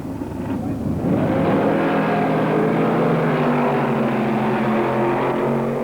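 Dragster engines roar at the 1969 NHRA Springnationals drag race in Dallas, Texas, a loud sustained blare that swells after a second and holds, close and raw, as one run tears past.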